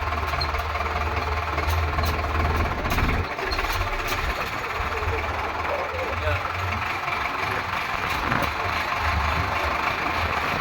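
A tractor engine runs steadily close by on a rough road, a continuous low rumble with rattling knocks that never lets up.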